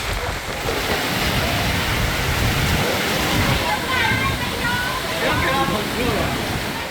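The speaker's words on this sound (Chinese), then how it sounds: "下起了倾盆大雨。" A heavy tropical downpour falls in Kuala Sepetang, a rainy town in Malaysia, as a dense roar of rain and rushing water. The sound is loud and steady throughout, with faint voices mixed in.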